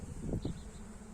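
Honey bees buzz at an open hive during a beekeeping inspection in pollen season, a soft continuous hum close by with two brief swells and no talk.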